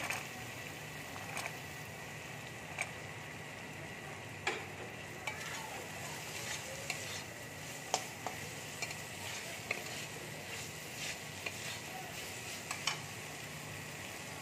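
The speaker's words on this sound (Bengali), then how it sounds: "মশলাটাকে ভালো করে ভেজে নেব, ভেজে ছোলা আর বড়ি দিয়ে দেবো।" Masala spice paste fries quietly in a pan with a little water for lau ghonto, a bottle gourd dish. A low, steady hiss carries faint rhythmic clicks of a spoon stirring against the pan.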